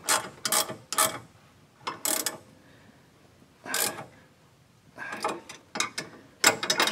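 Ratchet wrench cranking a bolt on a 2005-2018 Dodge Ram 2500 during a bypass oil filter install, a series of quick ratcheting bursts in uneven clusters with short pauses between, close and fairly loud.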